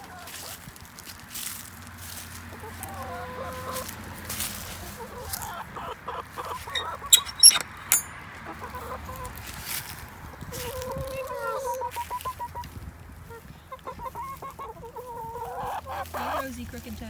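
Backyard hens clucking and murmuring in a garden coop, several birds close by with short repeated calls, while a person talks softly to them throughout.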